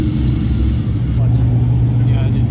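A car engine rumbles steadily and revs unevenly as the driver rides the clutch in a crowded beach parking lot at a Mustang meet, with people talking nearby throughout.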